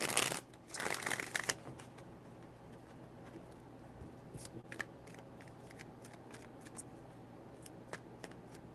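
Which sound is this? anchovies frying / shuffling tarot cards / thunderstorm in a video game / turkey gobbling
shuffling tarot cards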